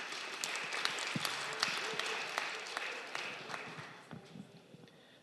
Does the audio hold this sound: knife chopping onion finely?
no